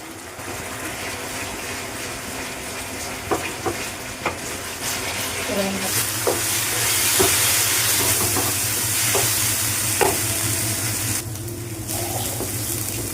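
Masala with Kashmiri chilli powder fries in oil for a snake gourd dish, a loud continuous sizzle with repeated clicks and scrapes of a spoon stirring against the pan, close by with no talk.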